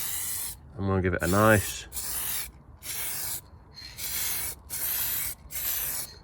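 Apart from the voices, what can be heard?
spray paint from a rattle can on Citroen C1 sill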